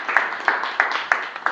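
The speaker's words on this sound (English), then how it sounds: "let's give a round of applause to everybody" Applause for everyone at a project closure event, with a series of sharp, evenly spaced bursts of claps over a steady wash of group clapping, moderately loud and fairly close.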